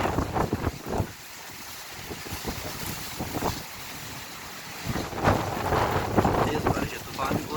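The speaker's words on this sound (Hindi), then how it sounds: "तेज़ बारिश है, तूफ़ान भी बहुत ज़्यादा है, बारिश बहुत ज़्यादा है" Heavy stormy rain with strong wind in Attock, Pakistan, with lightning and a flag flapping fast; a steady roar of downpour and gusting wind buffeting the microphone, swelling louder in the second half.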